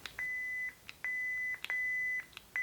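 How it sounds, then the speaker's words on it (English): A lightsaber with a Proffieboard gives a repeating electronic beep, steady tones about half a second long with short gaps, clear and fairly quiet against a faint background. "their Saber is just beeping at them"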